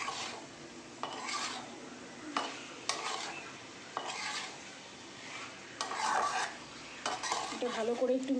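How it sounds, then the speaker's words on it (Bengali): Cauliflower and potato fry with spices in a pan while a utensil scrapes and stirs in repeated strokes over a soft, steady sizzle, close and fairly quiet. "এবার ভালো করে ফুলকপি আলুটাকে মশলাটার সাথে কিন্তু কষিয়ে নেব।"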